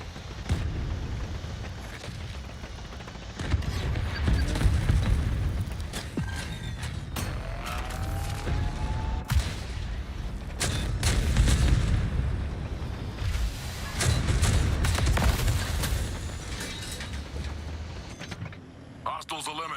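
Gunfire, booms and mechanical clatter from a shooter video game rumble on continuously at moderate loudness, with bursts and blasts rising and falling throughout. Voices talk over the action.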